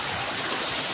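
River water rushing steadily in a mountain setting, a dense even hiss of flowing current, close and loud with no other sounds.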